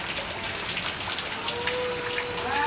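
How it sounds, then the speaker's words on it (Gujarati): Heavy rain falling at night, a steady dense patter and rush across the whole short stretch, moderately loud with no voices. "વરસાદ ખાલી કેવો પડે"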